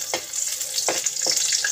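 Onion hitting smoking-hot oil, a steady bright sizzle running throughout with a few sharper bursts of spatter and stirring, close and fairly loud with no talk.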